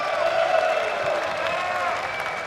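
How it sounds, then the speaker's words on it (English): An indoor audience at a Pokémon video game senior national championship final cheers and applauds for two competitors, a dense steady wash of clapping and shouting at moderate distance with mixed crowd voices. "Let me hear you guys cheering for these two great competitors"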